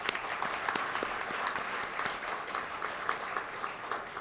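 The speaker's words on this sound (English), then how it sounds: "I think she deserves another round of applause." An audience at a 20th anniversary convention applauds after a speech, a dense, even clatter of many hands clapping that holds steady for several seconds with no voices.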